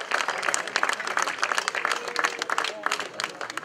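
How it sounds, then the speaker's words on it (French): A crowd applauds at a podium ceremony after a stage of a Breton cycling race, with steady dense clapping throughout and an announcer's voice over it. "Merci de l'applaudir très très fort, Yoann Payot"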